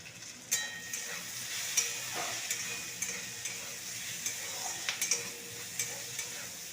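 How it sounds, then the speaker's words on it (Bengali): Vegetables fry and are stirred in a pan, giving a steady close sizzle broken by scraping stir strokes at irregular moments, with no voices. "সবজিটা দেখুন ভাজা ভাজা হয়ে আসছে।"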